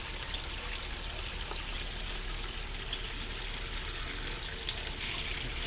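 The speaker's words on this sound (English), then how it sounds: "And I'm going to just run the water through here." Water runs steadily through a laundry hose used to wash gold-mine sand, a quiet continuous trickling hiss with no pauses.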